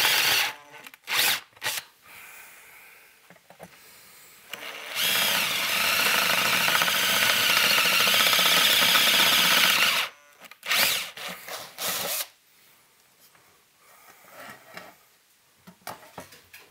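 Power drill boring a starter hole with a small bit in the chassis of a 1930s Globe tube amplifier; one sustained, close whine lasting about five seconds, flanked by short bursts and handling noises.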